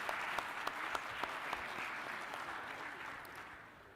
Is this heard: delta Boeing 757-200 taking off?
no